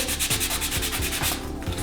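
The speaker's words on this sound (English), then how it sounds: "And we're just sanding down each side." Rhythmic back-and-forth sanding strokes rasping against the edges of wooden cabinet handles, close and steady, about two strokes per quarter second.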